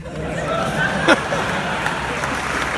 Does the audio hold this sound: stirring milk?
no